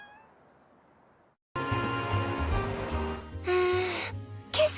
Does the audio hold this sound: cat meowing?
yes